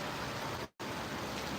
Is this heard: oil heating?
no